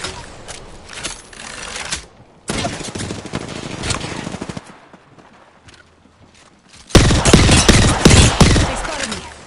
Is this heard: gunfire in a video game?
yes